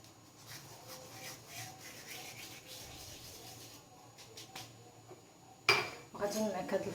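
Soft cheese mashed with garlic and a little thyme in a bowl, a steady close scraping and rubbing that swells into louder clattering scrapes near the end.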